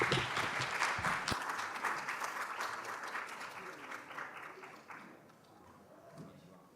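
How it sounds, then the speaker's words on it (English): A conference crowd at a tech summit applauds to welcome a speaker to the stage, clapping loud and dense at first, then gradually thinning and fading as murmurs and a voice start to come through near the end. "let's give a round of a big applause"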